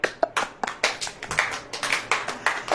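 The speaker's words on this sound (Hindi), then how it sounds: "ताली बजाओ।" Hands clapping at a church sermon gathering, a string of sharp, uneven claps close by, about a dozen quick slaps with gaps between them.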